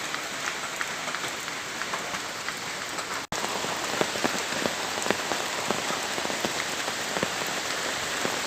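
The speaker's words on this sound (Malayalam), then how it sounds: "ചെറുതായിട്ട് മഴ പെയ്യുന്നുണ്ട്" Light rain falls steadily, a dense patter of drops on surfaces with no voices, continuous from start to finish.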